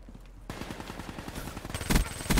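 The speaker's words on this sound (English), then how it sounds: "This dude's shooting at me." Rapid automatic gunfire in Black Ops 3, a steady rattle of close, loud shots starting after a brief quiet moment, with heavier bursts near the end.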